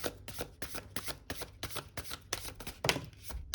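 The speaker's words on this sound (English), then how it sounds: "Do one last shuffle." Tarot cards being shuffled up close, a rapid rhythmic series of crisp riffling bursts with brief pauses, no voices.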